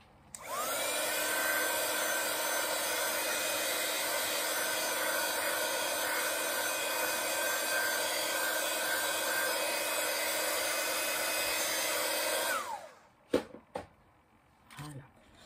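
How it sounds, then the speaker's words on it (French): A hair dryer blows loud and steady for about twelve seconds, drying a handmade paper craft card, then clicks off, leaving a few faint handling knocks. "Un petit coup de séchoir."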